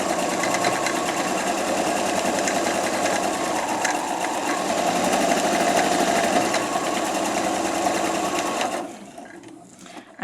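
Sewing machine quilting a patchwork cushion with dark grey thread at a long stitch length, a continuous rapid mechanical chatter close up that runs steadily for about nine seconds before stopping.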